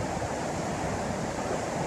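The flooded Barron River in far north Queensland after Tropical Cyclone Ita, a steady dense roar of rushing water filling the air without a break, with no voices.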